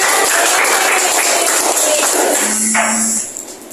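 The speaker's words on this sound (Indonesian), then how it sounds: "Tepuk tangan dulu untuk kita." Classroom applause during a microteaching lesson for third graders, a dense burst of clapping that carries on steadily and then fades out near the end, with a brief voice or tone showing through partway.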